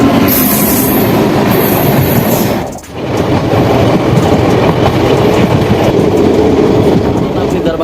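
Danapur Jogbani Intercity Express rolls along with its locomotive attached, a loud, continuous rumble of wheels clacking over rail joints, brief squeals and a momentary dip as something passes, heard from inside a sleeper coach.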